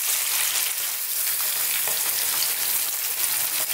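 A whole seabass coated in seasoned flour deep-fries in oil, making a loud, dense, continuous sizzle with crackling bubbles throughout and no talking.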